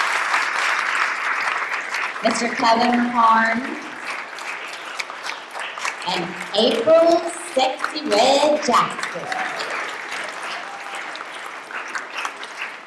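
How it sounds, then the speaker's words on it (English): Audience applause at a juke joint tribute event, a broad steady wash of clapping that runs the whole time beneath a voice announcing performers' names over a speaker. "we've got to give him another round of applause"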